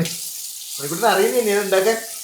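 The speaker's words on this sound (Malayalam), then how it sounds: "ഇതിലേക്ക് നമുക്ക് വെള്ളം നിറക്കണം അങ്ങനെ വെള്ളം നിറക്കണം" Water runs from a tap into a cooking pot for Maggi noodles, a steady broadband splashing rush that starts abruptly after a brief lead-in and continues close and fairly loud with a filling, gurgling texture.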